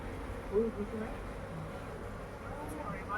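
Honey bees buzz around an opened, honey-filled beehive as a soft, steady hum close by, with a few louder passes of individual bees.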